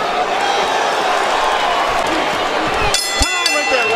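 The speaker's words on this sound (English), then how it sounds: "Chanting Si Se Pueda in the 11th." A boxing crowd at Staples Center in Los Angeles roars and chants during the 11th round of a close fight, a loud sustained wash of voices with a few sharp claps and shouts near the end.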